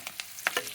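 Onions, green chillies and tempering spices fry in a pan of hot oil for semiya upma, giving a few short, sharp crackling sizzles close by with no talking.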